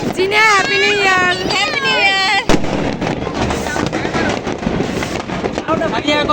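On New Year's night, fireworks explode all around as repeated booming bangs and crackles, some near and some distant. At the start, voices and whistling tones sound over them.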